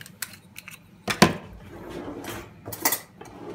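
A metal spoon stirs and scrapes around a bowl while mixing a pizza sauce seasoned with salt and a splash of balsamic vinegar, giving a few separate clinking knocks against the sides with no talking.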